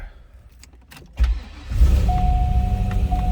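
A 2003 Chevrolet Corvette Z06 engine cranks and catches, then settles into a steady idle close by, with a faint whine over the low rumble.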